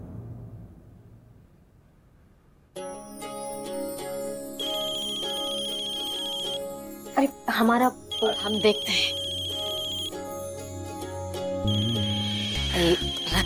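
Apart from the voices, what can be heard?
phone ringing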